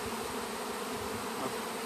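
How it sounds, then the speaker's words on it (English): A small swarm of honey bees, roughly ten thousand that have left their hive, fills the air with a dense, continuous buzzing drone, steady and close, with no talk. "About 3 pounds of bees, my guess, which is a small swarm"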